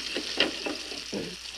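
Cod fillet dry-frying in a pan over low heat, a soft steady sizzle with a few brief scraping stirs, fairly quiet and close, no voices.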